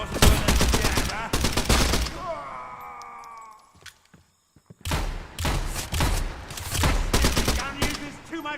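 Rapid automatic gunfire from the survival game Pioner in loud sustained bursts, broken by a short pause with a whirring mechanical sound before the firing resumes.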